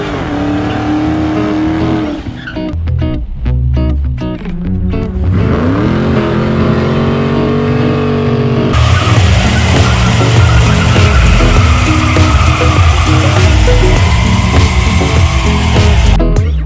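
The slant 6 six-cylinder engine of a 1966 Dodge Coronet idles steadily and loudly up close with a rhythmic rattling hum, then grows louder and busier partway through as the engine sound shifts.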